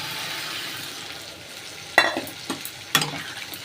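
Curry sautés in a pan with a soft sizzle, broken by a few sharp spatula scrapes and stirs toward the end.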